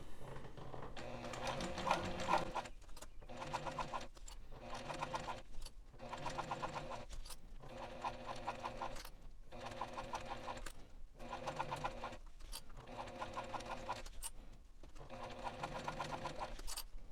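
A sewing machine stitches a fabric and vinyl dumpling pouch in a quiet room, running in steady buzzing bursts of about a second each, separated by brief regular pauses.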